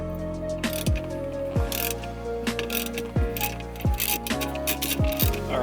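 A ratchet loosens a Torx 50 bolt on a car seat bracket, making a series of close, crisp clicking strokes, about seven or eight metallic ratchet pulls in an uneven rhythm.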